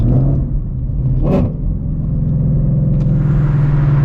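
A procharged Shelby GT350 rumbles steadily from inside the cabin while being driven, a loud, deep, continuous engine drone with a brief whooshing swell partway through and no talking.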